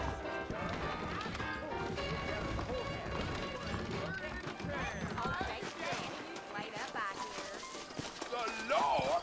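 Horses clip-clop in the Red Dead Redemption video game, a rapid rhythm of hoofbeats mixed with music and game ambience while characters talk.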